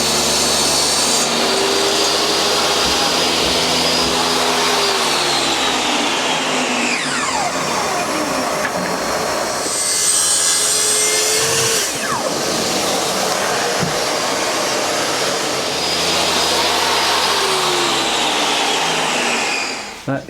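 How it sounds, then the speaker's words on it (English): A table saw rips birch plywood into strips in a woodshop, a loud continuous whining drone that dips and swells as each cut is fed through, running steadily for about twenty seconds. "ripping down required lengths of birch ply on the table saw"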